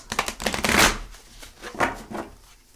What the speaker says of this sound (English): I'm very organized when I shuffle